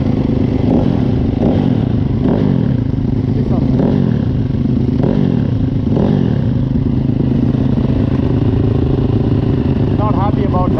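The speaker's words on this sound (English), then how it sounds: "So how does this rev?" A Yamaha YZ250FX dirt bike engine runs loud and close, rising and falling in repeated rev swells over a constant rumble, with some clatter.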